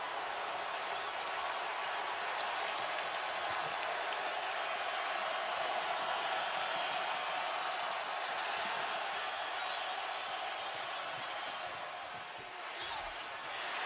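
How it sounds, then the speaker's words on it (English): A college basketball arena crowd roars continuously after a three-point shot in a South Carolina versus Kentucky game, a dense, sustained wall of cheering with faint commentary underneath. "And now the crowd will ignite in Columbia."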